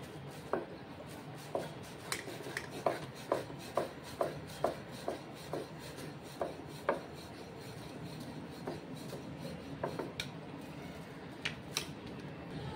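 A rolling pin works karanji dough sheets on a board, giving soft, evenly spaced taps and rubs close by, fairly quiet, with a faint rasp between strokes and no talking.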